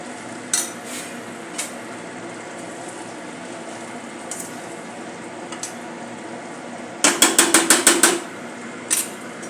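Bhogi bhaji vegetables with chopped coriander being stirred in a pan, with a quick burst of rapid scraping clicks from the spoon against metal near the end, plus a few isolated knocks over a steady low cooking hiss.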